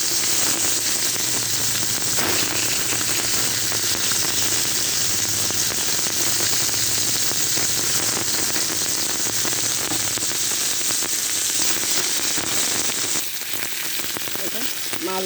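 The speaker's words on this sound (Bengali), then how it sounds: "মাছ ভাজা হয়ে গেছে।" Pieces of a 4 kg grass carp sizzle steadily in hot oil, seasoned with spice powder, a dense continuous frying hiss that stays loud and close throughout with no voices.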